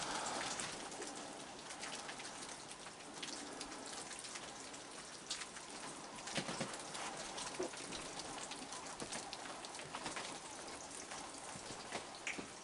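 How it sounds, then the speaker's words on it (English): Steady rain patters on a surface throughout, a dense even hiss with occasional louder drops, and faint bird calls in the distance. "Yeah, it is raining."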